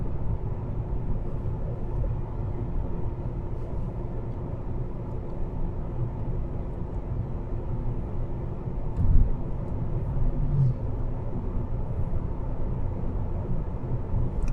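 A car drives steadily along a road in Germany near an Autobahn junction, with a constant low interior road and engine rumble throughout and a faint thump partway through.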